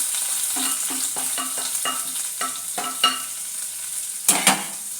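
Onions, garlic, dried chillies and curry leaves sautéing in a hot pan, a steady sizzle broken by a series of rhythmic stirring scrapes, with a sharper clatter near the end.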